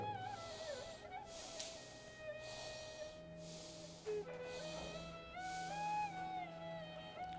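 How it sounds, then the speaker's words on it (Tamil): Slow, deep yoga breaths drawn in and let out through a seated breathing exercise, several soft breathy rushes repeating at an even pace over gentle background music. "ஒரு 3 முறை மூச்சை உள்ளெழுத்து மூச்சை வெளியே விடுங்க"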